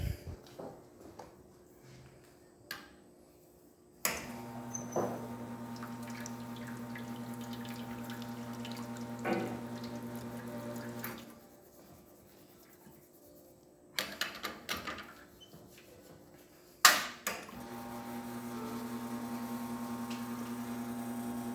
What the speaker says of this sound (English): So starting with my shot of espresso, we're going to be testing this beautiful machine.